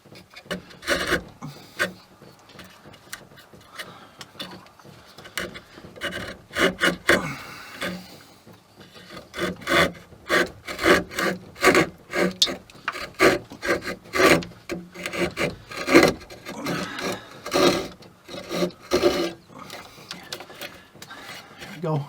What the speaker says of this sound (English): These little saws are awesome. They're the little Pinel saws.